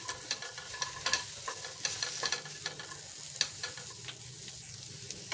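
Veg pizza toppings are lightly sautéed on a tawa over the flame, a quiet steady sizzle with small stirring taps and clicks, close up and without talk.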